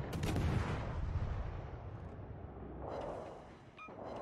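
Battleship guns fire shells in the naval video game World of Warships Legends, opening with a heavy booming blast that rumbles and fades, and a second softer boom follows near the end.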